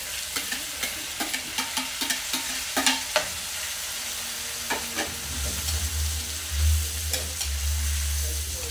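Chopped tomatoes sauté in a hot pan for squid adobo, a steady low sizzle broken by frequent sharp clacks of a utensil stirring against the pan.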